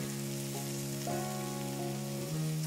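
Gulf shrimp sizzle in a pan with a steady, close frying hiss, while a sustained tonal hum shifts pitch in the background.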